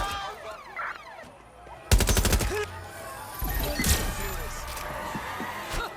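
Gunfire in the video game Watch Dogs: Legion: a rapid burst of automatic fire, then scattered shots and impacts amid game effects, fairly loud, with voices shouting over the action.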